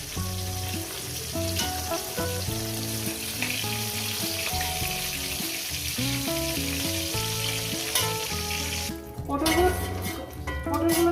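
Potol (pointed gourd) pieces sizzle continuously in oil under loud music, with a brief clatter of a pan or utensil near the end.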